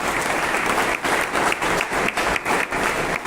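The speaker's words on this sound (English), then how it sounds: "So big round of applause for them." An audience at a college engineering tech festival applauds, with dense, steady clapping from a sizable crowd close by that swells and dips slightly over a few seconds.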